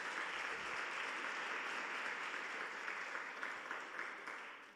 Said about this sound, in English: Now give yourselves a big hand clap.